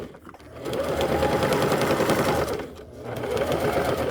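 Sewing machine back stitching along a bag seam, a steady close-up mechanical whir that runs continuously, dips briefly in the middle, then resumes at full speed.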